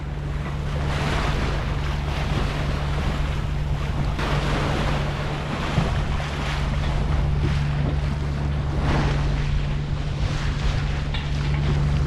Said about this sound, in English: Now we're getting a little bit more wind off our port.